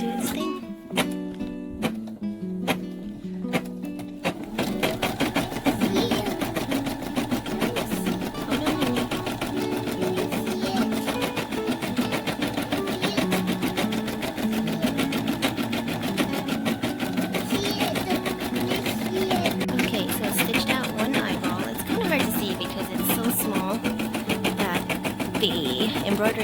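A home embroidery machine stitching a snap tab keychain in the hoop, a rapid, steady mechanical needle chatter running loud and close after a brief start, with a voice talking at moments beneath it.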